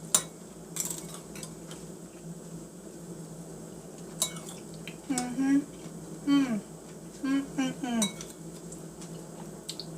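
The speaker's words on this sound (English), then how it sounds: "And I just stir that in there." Spoon stirring homemade hot sauce into a pot of corn, potato and poblano soup, light intermittent clinks and scrapes against the pot, faint and sporadic, with a person talking between strokes.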